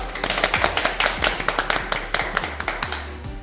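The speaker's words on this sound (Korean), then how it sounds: "박수로 모시겠습니다" Applause from an audience at a Korean festival event announcement ceremony, a steady run of claps lasting throughout, fairly close and moderately loud, with no voices over it.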